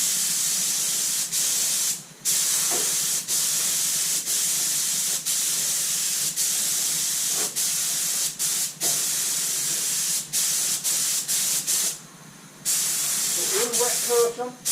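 Spray gun laying a wet coat of paint onto a Socomec MIG welder and Jones & Shipman bench centres, a loud close hiss that runs in long sustained passes broken by brief trigger releases, with a faint voice near the end.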